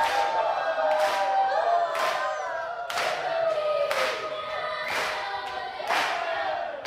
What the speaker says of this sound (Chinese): 台下的评审和观众也起立鼓掌拍手叫好